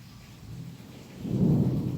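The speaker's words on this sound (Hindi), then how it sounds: "बारिश तो बहुत जोर से हो रहा है यार" Heavy monsoon rain with a deep thunder rumble, a low rolling roar that swells louder toward the end over a constant wash of rain noise.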